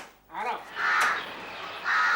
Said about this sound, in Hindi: कौवा जोर से बोल रहा है